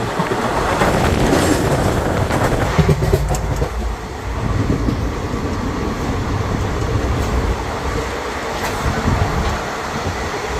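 A train runs on rails, a loud, continuous rumble and rattle of railroad cars heard from on board, with a brief dip in the roar partway through.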